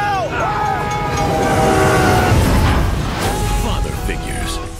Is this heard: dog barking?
no